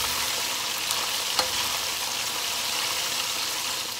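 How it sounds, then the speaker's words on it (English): Chicken wings double-fry in hot oil over high heat with a steady, even sizzle and crackle, close by, with no talking. "Parang double frying, guys."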